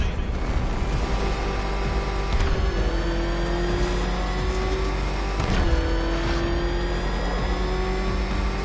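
Batmobile engine revving hard in Batman: Arkham Knight, a steady loud roar with rising whine and two brief surges, continuous throughout.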